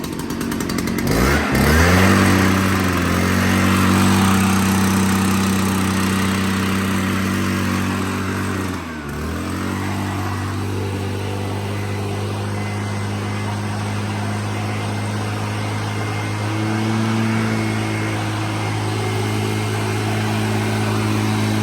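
A small 58.2 cc two-stroke gas trimmer engine idles and runs steadily at close range, its buzzing drone dipping briefly before settling back to a constant hum.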